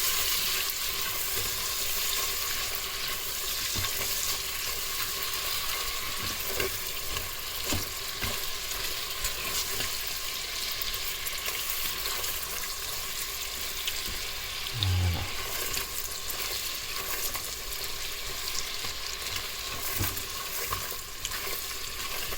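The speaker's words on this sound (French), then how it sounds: "On mélange tout ça, on fait fondre le beurre." Butter melting for caramel in a Cookeo multicooker pot, a soft continuous sizzle with occasional light stirring clicks and scrapes, fairly quiet and close, with no talking.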